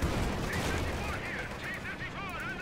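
Machine gun fire in the World War II strategy game Company of Heroes 2, a dense continuous rattle of rapid shots heard together with broader battle noise, with a voice talking over it.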